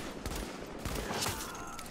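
Enemy gunfire in The Division video game, a quick volley of sharp cracking shots spread across the moment amid other battle noise, fairly faint overall.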